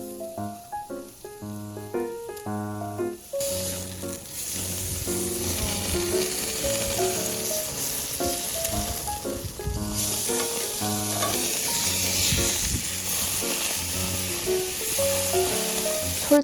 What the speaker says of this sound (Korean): 글쎄요, 고기 굽는 모양새는 꽤 그럴싸해 보여요.